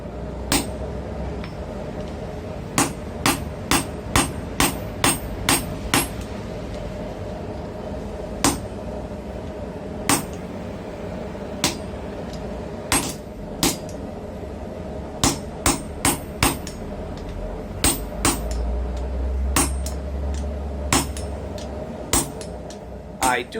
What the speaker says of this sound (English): I'll use this store-bought chisel to cut it to the length that I want.